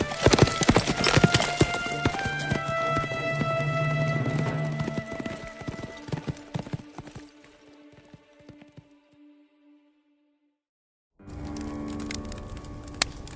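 A horse's hooves clip-clop steadily as a rider departs an inn at sunrise, loud and close at first, then fading into the distance until silence, before a new ambient background begins.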